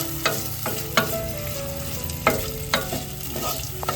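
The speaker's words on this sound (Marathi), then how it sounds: "कांदा परतवून घेतो इकडे." Onion sautés in hot oil in a clay pot for a village-style dry dish, giving a constant close sizzle broken by sharp scraping clatters of stirring at uneven intervals.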